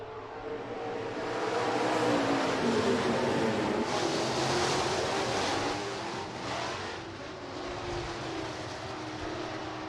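Late model street stock race cars roar around the Rapid Speedway oval during a heat race, a dense engine drone that swells as the pack passes near, then eases slightly, with no talk.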